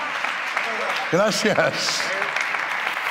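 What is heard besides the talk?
audience applause at an awards gala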